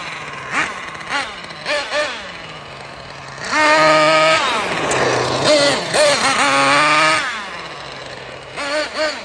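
A small RC car engine revs up and down in several bursts, whining high as the wheels spin without grip, close and loud, with a person talking between revs.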